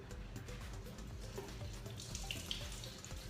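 Tap water runs steadily into a sink while parsley is rinsed under it, a soft continuous splashing hiss with no talk.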